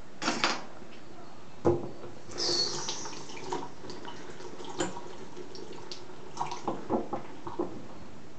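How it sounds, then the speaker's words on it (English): Water runs from a tap while a child's hands are washed at a sink, a steady close splash with a few clunks and taps, and no talking. "And then we're gonna wash our hands."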